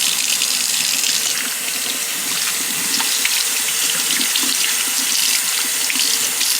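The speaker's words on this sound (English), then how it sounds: "Usually I wash my hands about 2 to 3 times like this until I get no more green in the lather" Water runs steadily from a tap over hands being scrubbed clean of tomato tar, a continuous close, loud splashing hiss with no pauses.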